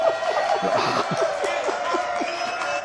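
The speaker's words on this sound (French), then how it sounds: "Applaudissements, s'il vous plaît." A French television studio audience gives brisk applause for a guest, European deputy Angélique Delahaye, with scattered claps and a few cheers over a steady room hum.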